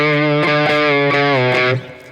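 Distorted lap steel guitar in open D tuning plays the Satisfaction riff, a short run of loud, sustained sliding notes ending abruptly after under two seconds, instrument alone.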